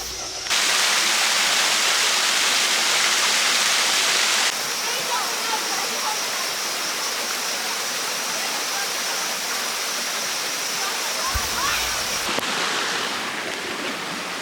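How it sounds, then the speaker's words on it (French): Steady, dense rush of a waterfall on a walk in Australia, loud and constant throughout, with a brighter hiss at the start and a brief low thump near the end. "Petite balade à la cascade."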